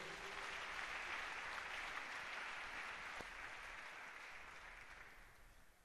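A church congregation applauds in steady, dense clapping that fills the whole stretch, fairly distant and even, slowly thinning toward the end.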